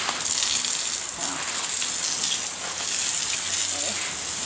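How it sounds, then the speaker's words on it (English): Water runs from a tap beside plants being repotted, giving a steady bright hiss and splash that stays even and continuous, fairly soft, with no talk. "Turn this water off here"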